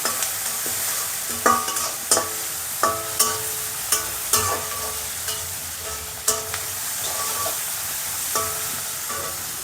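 A carrot and rice mixture fries in a pan while a spoon stirs it, with repeated sharp scrapes and clinks over a steady close sizzle and no voices.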